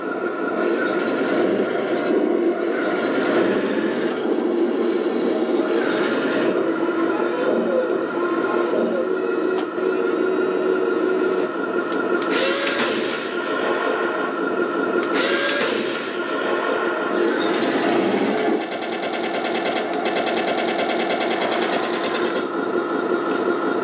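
A continuous buzzy, mechanical engine effect from a Heng Long Leopard 2 A6 RC tank's sound unit drones on for the whole stretch, with brief rattling bursts and clanks breaking in now and then.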